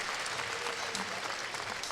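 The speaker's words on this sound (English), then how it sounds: "Sergio Pagni getting a nice round of applause from the fans here in Las Vegas" Steady round of applause from spectators at the Vegas Shoot archery championship in Las Vegas, for archer Sergio Pagni, with a commentator talking over the clapping.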